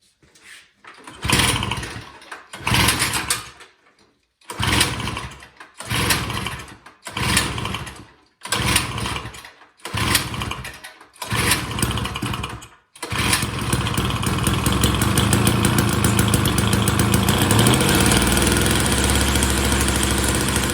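Small snowblower engine in a garage, primed with gas-bearing starting fluid, is pulled over in about eight loud separate bursts, then catches and runs steadily, a close, continuous rough engine drone with no talking.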